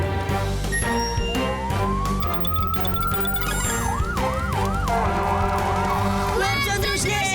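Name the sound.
fire engine siren in animated cartoon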